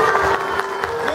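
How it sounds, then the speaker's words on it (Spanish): An audience claps at a sea lion show at a zoo, with dense, steady applause and crowd noise filling the brief moment. "Más aplausos."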